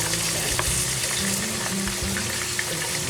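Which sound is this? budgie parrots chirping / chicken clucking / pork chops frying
pork chops frying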